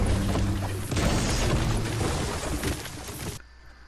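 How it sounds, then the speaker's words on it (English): A tree being chopped down in Fortnite gives a loud, dense crunching crash that swells for a few seconds and then cuts off abruptly, with no voices. "Then we'll take this tree down."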